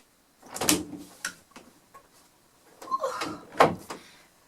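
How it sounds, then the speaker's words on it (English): A door shuts with a couple of knocking thuds and rattles, followed shortly by another firmer closing bump; fairly quiet and close. "And it's shutting the door."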